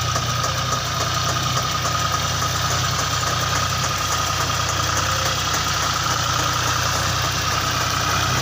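A tractor engine runs steadily with a loud, continuous mid-pitched rumble and faint knocking vibration as a loader pulls a stuck trolley, with no voices heard.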